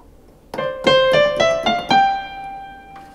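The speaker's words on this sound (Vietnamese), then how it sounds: "Đó, tiếng piano này." Piano voice on a Kurtzman K250 electronic keyboard plays five separate notes in a steady run, each with a sharp attack and a ringing decay, and the last note fades out alone. No one speaks.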